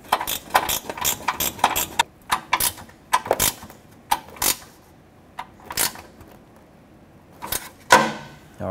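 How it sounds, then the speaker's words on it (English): Pneumatic air ratchet working bolts along the bumper of a 2009-2014 Ford F-150, heard as repeated short, sharp bursts of ratcheting clatter with brief pauses between them, close by. "I'll just grab my air ratchet and go along the entire bumper"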